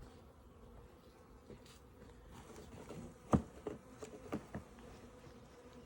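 Honey bees from a caught swarm buzzing as they fly around outdoors, a soft continuous drone with a few louder close passes and light taps near the end.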